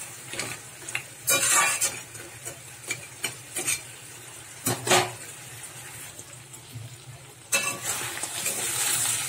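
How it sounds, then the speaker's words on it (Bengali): Fried crabs stirred through a simmering curry gravy, with repeated close scraping and clattering strokes over a soft bubbling sizzle that grows louder toward the end. "ক্যাঁকড়াগুলো নেড়ে চেড়ে একটু হতে দেবো।"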